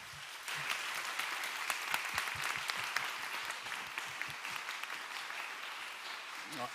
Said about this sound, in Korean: 선교사님들 환영하는 마음으로 큰 박수로